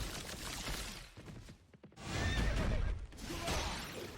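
A horse whinnies loudly amid game sound effects in a multiplayer battle arena video game, with crashing impacts and rumbling noise around it.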